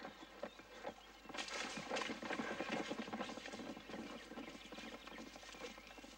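Hooves clopping in an irregular, shuffling patter, fairly close, with rustling and movement of several animals over a steady outdoor background.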